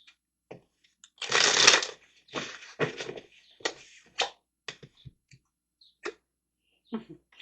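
Tarot cards being shuffled by hand, a loud riffle burst followed by a string of shorter card slaps and taps, close and clear with no talking.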